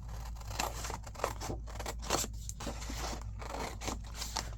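Scissors cutting through a paper file folder, a run of close snipping and crisp paper rustles over a low background hum.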